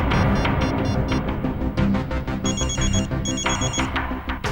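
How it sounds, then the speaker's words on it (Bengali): A phone rings with a repeating electronic ringtone, bright bell-like tones in bursts over a busy musical background, loud and continuous throughout. "আমি ফোন করার পরে অন্যরকম রিংটোন হলো"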